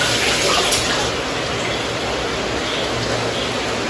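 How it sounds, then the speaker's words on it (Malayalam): Strained melted jaggery is poured into a pot in a steady liquid stream with continuous splashing, close and fairly loud throughout. "അടുത്ത് നമ്മള് ശർക്കര ഇതിനകത്തേക്ക് അരിച്ചു പാരാൻ പോവാട്ടോ."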